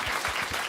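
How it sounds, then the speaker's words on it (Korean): Studio audience applause at a live broadcast show, a steady dense burst of clapping filling the short moment without any voices. "박수 한번 보내주세요"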